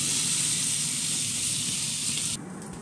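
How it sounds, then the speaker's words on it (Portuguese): Bacon sizzles in a hot frying pan as a loud, steady hiss of spitting fat that runs continuously before dropping away sharply near the end. "Aqui já tem uma frigideira quente, que eu vou fritar agora o bacon"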